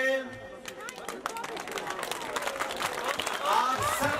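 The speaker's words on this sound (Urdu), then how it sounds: "تو میں سٹیج پہ دعوت دیتا ہوں" An audience at an education event in Pakistan claps to welcome a guest to the stage, scattered, uneven applause mixed with crowd chatter and a voice speaking over it.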